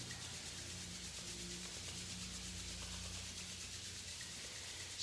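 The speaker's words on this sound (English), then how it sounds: "Let's rub our palms." Palms rub together in a quiet, steady dry swishing, continuous and close for several seconds, with a faint low hum in the background.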